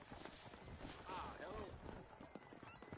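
Horses' hooves clip-clop close by as a horse whinnies briefly, their steady rhythmic clatter running beneath excited voices talking over the scene.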